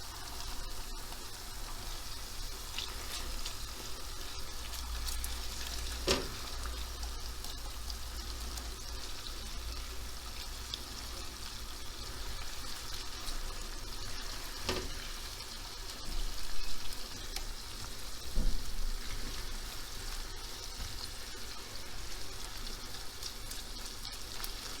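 Onions sautéing in a pan with pepper paste and tomato paste, a steady soft sizzle running throughout at low level, with a few faint clicks and small bumps of utensil contact along the way.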